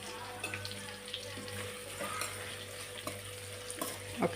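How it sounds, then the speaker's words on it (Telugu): Chopped onions and green chilies fry in a pan for a rustic taro root curry: a faint, continuous sizzle with scattered scraping and stirring clicks. "ఇవి బాగా ఫ్రై కావాలి"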